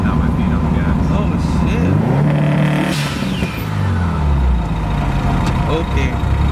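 A Subaru STI engine on a freshly assembled short block runs at idle with no throttle applied, a loud, rough, close rumble with slight rises and falls in pitch, while a person talks over it.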